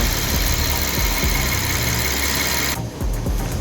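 The 6.6-litre engine of a 2014 Rolls-Royce Wraith idles with a smooth, steady low hum and faint mechanical whir, heard close and alone before the sound drops away near the end.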